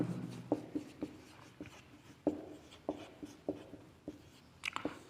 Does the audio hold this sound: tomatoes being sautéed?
no